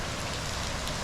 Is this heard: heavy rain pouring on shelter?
yes